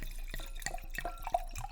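Liquid poured into a glass in a quiet room, a short run of close gurgles and splashy drips, soft and alone.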